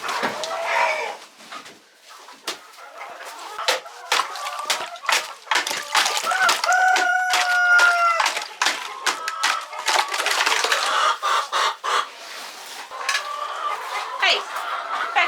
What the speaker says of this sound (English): Check the chickens.